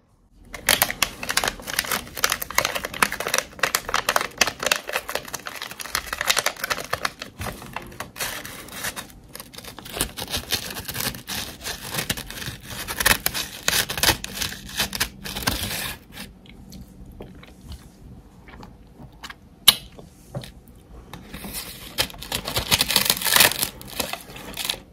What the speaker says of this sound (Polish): Jak będzie mi posypka pękać w ustach.